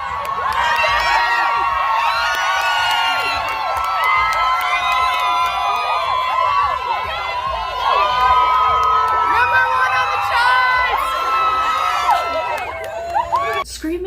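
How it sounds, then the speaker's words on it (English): A crowd of fans screams and cheers as Johnny Depp arrives at the Johnny Depp vs Amber Heard trial on a Monday morning: a loud, dense wall of shrieks and whoops that continues for the whole stretch without a break. "screaming people first thing on a Monday morning is just, it's a lot."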